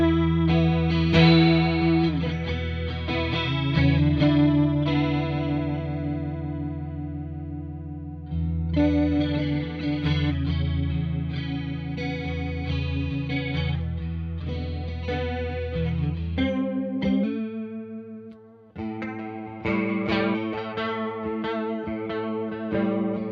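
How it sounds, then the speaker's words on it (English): Electric guitar through an Ibanez Prime Dual Chorus PC10 pedal at high speed, sustained chords and notes with a fast warbling pitch bend, played alone and loud over about twenty seconds. "As you get the speed up on most choruses, you will hear the pitch bend much more obviously"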